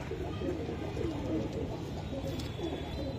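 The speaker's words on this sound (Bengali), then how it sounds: "কবুতর তো দেখতে অনেক সুন্দর" Pigeons at a bird market coo softly in repeated low, throaty bursts, faint and set against background noise and nearby talk.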